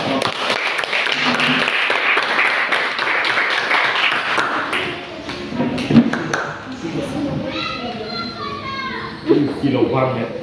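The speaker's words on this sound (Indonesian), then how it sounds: "Tepuk tangan dulu perwakilan kelompok" A classroom group claps for its representatives: a dense burst of applause mixed with children's chatter, then fading into scattered voices and taps.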